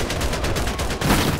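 Rapid video game gunfire in a Let's Play session, a dense burst of repeated shots with a steady rhythm, loud and close throughout.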